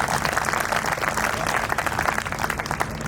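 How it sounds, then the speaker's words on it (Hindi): An audience at a Hindi poetry event (kavi sammelan) claps, a dense, continuous burst of applause that holds steadily for a few seconds without a voice over it. "एक बार आप तालियां बजा दीजिए"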